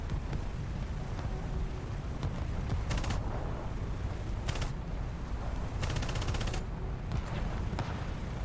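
Aircraft machine guns fire in short bursts during a gun run in War Thunder, sharp rattling volleys standing out over a constant loud roar of engine and wind.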